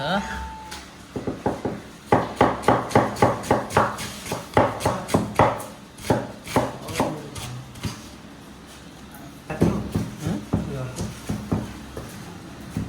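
A knife chopping onions on a board, heard as a rapid run of close, sharp taps with short pauses between groups of cuts, and faint background noise.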